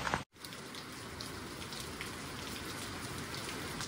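Rain falls steadily outside, a dense even patter of drops on surfaces heard from indoors, continuous and moderately soft after a brief cut at the start, with no one speaking.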